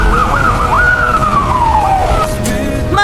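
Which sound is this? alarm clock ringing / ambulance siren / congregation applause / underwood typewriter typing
ambulance siren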